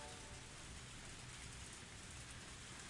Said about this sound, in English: We're in the middle of the forest, and on top of that, it's raining.